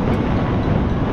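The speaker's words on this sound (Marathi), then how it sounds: "कोकण रेल्वे" A Konkan Railway train rumbles past near the Mumbai–Goa highway at Karmal Ghat, a dense, loud, broadband roar of wheels and carriages with no voices over it.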